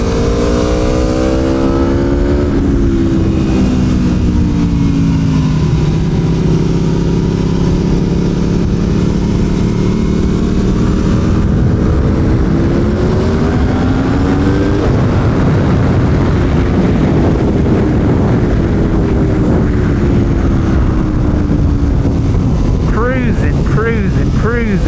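An Aprilia Tuono V4 1100 Factory motorcycle on a race track makes a loud, sustained engine drone whose pitch climbs and falls through gear changes, with heavy wind buffeting over the microphone throughout.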